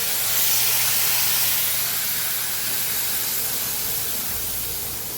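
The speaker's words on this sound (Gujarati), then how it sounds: "દૂધ નાખી દીધું હો." Milk poured into a hot pan of sev sheero gives a loud, steady hiss of steam and sizzle that holds for several seconds, then fades slightly.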